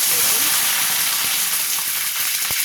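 Curry leaves and black mustard seeds sizzling in hot oil, giving a dense, loud hiss with light crackle and one sharp tap near the end, close up.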